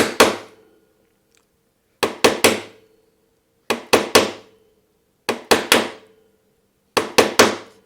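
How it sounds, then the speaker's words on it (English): A hand chisel is struck to chop a hinge mortise in wood: sharp, close knocks in quick clusters of two or three, separated by short silences, repeating five times with no talk. "That actually kind of levers out the material with each successive chop."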